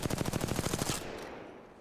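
Rapid automatic weapon fire in the Apex Legends firing range, a fast burst of about a dozen close, loud shots lasting a second before cutting off into a fading tail.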